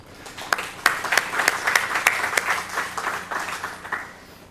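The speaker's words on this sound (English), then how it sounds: "Give Jeff a big round of applause" Applause from a conference audience, where sharp individual claps stand out over a thinner clatter of hands that swells and then gradually fades toward the end.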